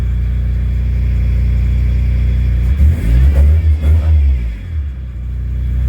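A car engine with a newly replaced fuel pump idles steadily, then is revved in a few strong blips that rise and fall before it returns to idle, loud and nearby.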